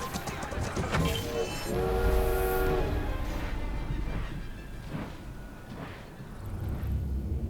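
A train rumbles steadily along the tracks in the video game Assassin's Creed Syndicate, with a continuous loud roar and harsh metallic screeching near the start, no voices over it.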